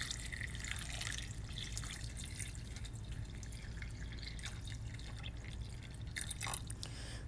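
Water pours and trickles over red beans in a cooking pot, a quiet steady splashing flow with small drips, close and fairly faint, heard alone without talk.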